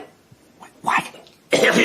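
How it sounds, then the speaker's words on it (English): Two short, harsh coughs from a person who sounds sick, close and moderately loud, the second burst stronger than the first. "You sound really sick with all that coughing you're doing."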